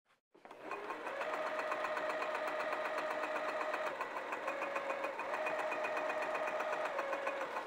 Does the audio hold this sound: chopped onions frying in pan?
no